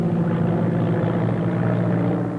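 A propeller airplane, C-108, drones steadily in flight with a loud, continuous low engine hum and rumble, no pauses, filling the whole moment.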